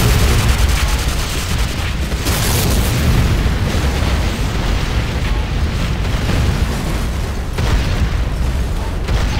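A GDI infantry barracks explodes in the game Renegade with loud, dense rumbling booms. Blasts and gunfire-like bursts roll on continuously with no letup.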